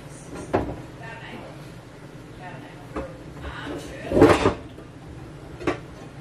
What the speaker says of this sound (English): now I've got to get the pan out